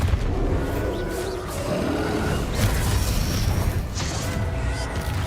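A Bombarda explosion spell in Hogwarts Legacy lands as a dense, roaring, booming blast with crashing debris that fills the whole short stretch, loud and close.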